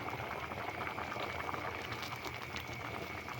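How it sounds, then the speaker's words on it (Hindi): Rice and lentils simmering in a pot with water bubbling steadily, a close, continuous boiling hiss with soft crackles and no voices. "पानी अब हल्का हल्का सा इसमें पकने लग गया।"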